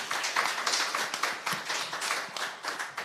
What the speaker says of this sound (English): Please give a round of applause for Allison.